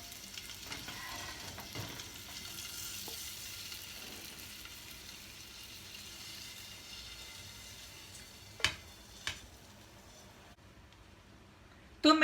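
Eggs fry in oil in a hot pan for dhaba-style egg curry, making a soft, steady sizzle throughout, with a couple of brief utensil knocks near the end and no talking.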